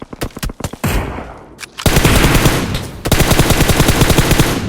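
Loud, close automatic gunfire in PUBG Mobile on the Erangel map: rapid bursts of shots, first in short separated volleys, then long sustained strings of rapid fire with no talk.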